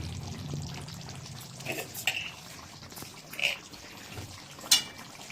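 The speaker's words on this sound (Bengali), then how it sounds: "এই দেখুন মিশিয়ে দিচ্ছি বাড়িতে পিষে রাখা গরম মশলা দিয়ে এটাকে ভালো করে মিক্স করে দেবো" Chicken kasa being stirred with homemade ground garam masala: soft scraping and a few clinks of a spoon against the pan over a faint sizzle, quiet and intermittent, with no talking.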